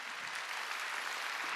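Church congregation applauding during a Sunday worship service, a steady, dense wash of clapping from many hands that holds evenly throughout.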